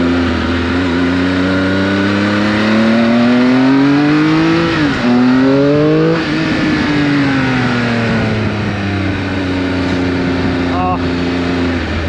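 A 2019 Triumph Speed Triple RS 1000cc motorcycle engine roars loudly and continuously up close, its pitch sweeping up and down as the rider revs and rolls on and off the throttle.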